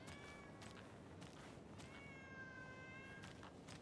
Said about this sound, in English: That sounds like a cat that's in trouble